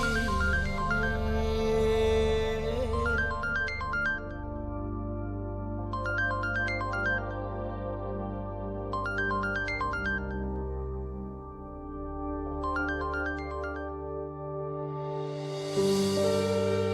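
A mobile phone rings on and off without being answered, its repeated high chirping bursts sounding over a steady background music score.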